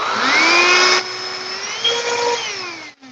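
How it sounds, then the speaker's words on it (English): A small vacuum cleaner runs with a steady whining motor drone, loudest at the start, dipping around the first second, then continuing with shifting pitch before cutting off near the end. "This is a vacuum cleaner."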